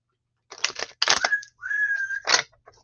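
Several short whistled bursts, then a long steady whistled tone, broken up by breathy noise; fairly close and fairly loud.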